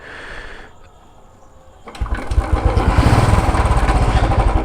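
A hot vehicle engine: a quiet stretch, then the engine catches and runs loudly with a fast, even throbbing pulse that continues to the end.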